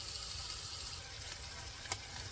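Italian sausage browning in a pan gives a faint, steady sizzle, with one small pop near the end.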